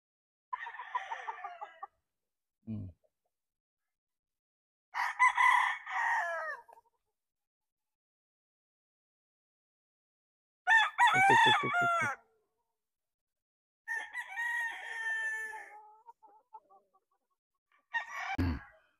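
Gamefowl stags, Boston Roundhead and SBR Milson's Black crosses, crow several times in separate loud bursts with quiet gaps between, some calls closer and fuller than others, with no talking.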